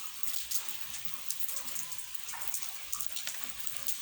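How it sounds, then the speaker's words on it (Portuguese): Steady heavy rain pours onto a wall and the ground, a continuous close hiss of drops with scattered heavier splatters and no voices. "Aqui está chovendo bastante,"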